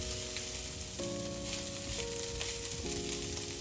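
Steady frying sizzle of caramelized onions and chopped carrots in a pan, with a faint hiss throughout, accompanied by a sustained musical tone in the background, no speech.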